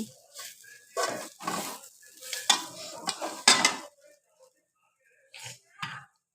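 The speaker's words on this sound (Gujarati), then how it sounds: "થોડીક આપણે એમાં ચટણી નાખી દઈશું અને પાછું મિક્સ કરવું પડશે" Chutney being mixed into a crunchy snack mixture with a spoon in a bowl, heard as bursts of close scraping and rustling with short pauses and a quieter final stretch.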